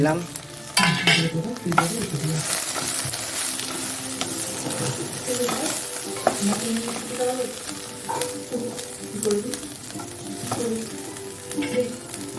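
Onion and green chilli hit hot oil with okra in a pan for a mustard okra curry, giving a steady, close sizzle with stirring scrapes throughout and a faint voice in the background.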